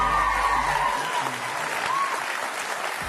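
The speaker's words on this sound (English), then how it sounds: "I think we can have another round of applause," A large conference audience at Adobe MAX applauds steadily as a choreographer is welcomed to the stage, with dense sustained clapping filling the whole stretch and no speech over it.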